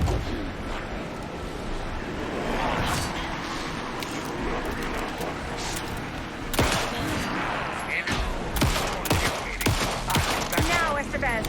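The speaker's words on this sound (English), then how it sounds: "Shoot him." Gunfire in the video game Alan Wake 2 comes as scattered sharp shots and bursts over a rumbling, noisy game background, growing denser toward the end, with brief voices in the mix.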